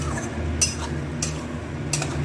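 A metal spoon scrapes and clinks against a pan while stirring poppy-seed stem curry, danta chorchori, over a steady gas-burner hiss, with three distinct sharp clinks spaced across the moment.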